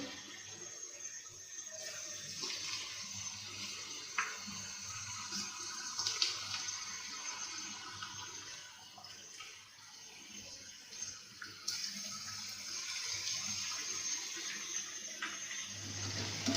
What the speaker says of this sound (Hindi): मैं इसे हाथों से ही इस तरह से उठाते हुए ऑयल में डालूँगी और इन्हें फ्राई कर लेंगे।